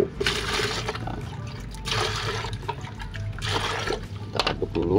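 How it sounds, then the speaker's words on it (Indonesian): Water poured into a mix of three fertilizers for grape vines, a steady splashing, gurgling pour that swells and eases over several seconds, close and fairly loud, with no talking. "Jadi 3 pupuk ini kita campur ya menjadi satu, dicampur dengan air teman-teman ya."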